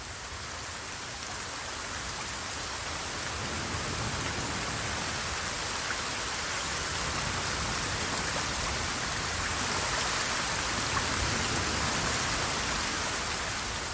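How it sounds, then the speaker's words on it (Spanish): Heavy rain pours steadily in the Amazon rainforest, a dense, even hiss of water that grows slightly louder partway through, with no voices. "La lluvia no cesa y el caudal de los ríos sigue creciendo."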